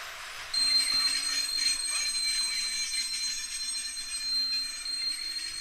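Metro train in the video game Watch Dogs, a steady rolling rumble with a high wheel squeal or hum that rises and falls, heard alone and continuously at moderate loudness.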